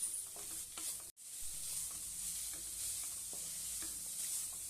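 A milk powder mixture for paan gulkand modak is sautéed in a pan, making a soft, steady sizzle with faint scraping strokes and a brief dropout partway through.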